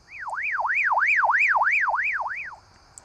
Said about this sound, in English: the alarm is on and it's making a lot of noise